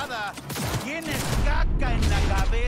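Pistol gunfire in the video game Cyberpunk 2077, several sharp shots in quick succession within a busy game mix, with someone talking over part of it.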